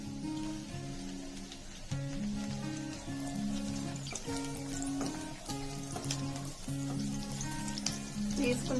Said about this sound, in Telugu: వేసుకున్నాక మనం ఇలాగా ఒక 10 సెకండ్స్ వరకు మనం ఇట్లా ఫ్రై చేసుకోవాలి.